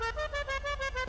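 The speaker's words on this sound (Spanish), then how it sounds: "Claxon, le cambiamos el claxon." A car horn in the video game GTA V honks in a quick series of short, loud electronic toots with a harsh, buzzy tone, heard alone.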